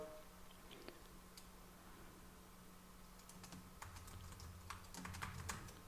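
Quiet keystrokes on a computer keyboard, soft scattered clicks that grow denser and more rapid toward the end as an email address and password are typed.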